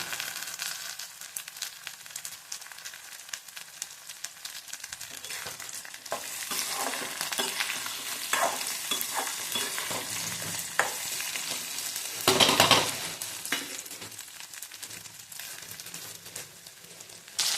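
Pirandai (adamant creeper) and spices fry in a pan for South Indian thovaiyal, a steady close sizzle with scraping stirs building midway and a louder burst of spatula clatter near the end, no voices.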